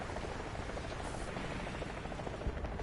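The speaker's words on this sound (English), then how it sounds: "There's a helicopter." A helicopter's rotor in War Thunder thrums steadily at a moderate distance, a constant low chopping drone with no speech over it.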